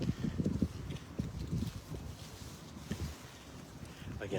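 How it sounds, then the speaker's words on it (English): Outdoor wind buffets a microphone near a police standoff in Warwick, Rhode Island, making irregular low rumbling gusts and thumps that come and go throughout. "it's pretty windy down here. I apologize if it sounds a little windy"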